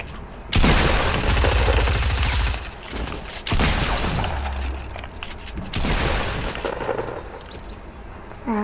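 Video game gunfire erupts in loud, dense bursts of rapid shots and booms, broken by short pauses, with a close, harsh, saturated sound and no talk over it.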